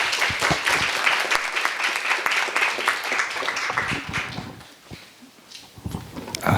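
An audience at a carbon-neutral campus forum at Seoul National University claps to welcome the institute director for the opening address, a lively burst of applause that thins and fades, then picks up briefly again.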